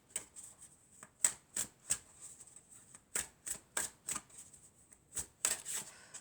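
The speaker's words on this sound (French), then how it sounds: "on va prendre quelques cartes de l'oracle de la Triade" Triade oracle cards are shuffled in quiet, crisp riffling bursts with soft flicks between them, close by and faint, and no one speaks.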